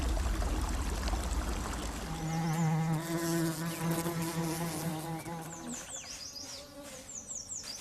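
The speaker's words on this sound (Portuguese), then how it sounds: "Abelhas japonesas." Japanese bees buzzing in a forest, a dense steady hum with several overlapping droning tones, moderately close, over a soft wash of background noise.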